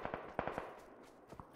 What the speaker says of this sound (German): Da, wo die Schüsse sind.